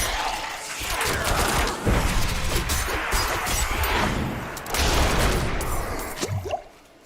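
Rapid bursts of rogue Barrage attacks in Diablo IV, a dense wash of crashing, clattering hits and impacts that stays loud and continuous before cutting off near the end.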